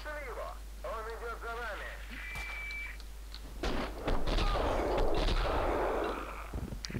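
Max Payne 2 gunshots and blasts ring out after some chirpy electronic effects and a brief beep, with a few sharp bursts and rumbling noise.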